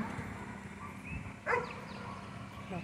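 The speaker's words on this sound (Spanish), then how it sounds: "Los perritos también distrayéndose un poco." Dogs in a park in Lima, Peru, give a few yips and a short burst of barking, moderately close, over faint background noise and distant voices.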